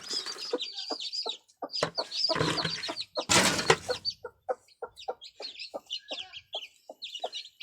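A hen clucks close by among newly hatched chicks, with repeated short clucks and brief louder squawks mixed with high, thin peeping from the chicks.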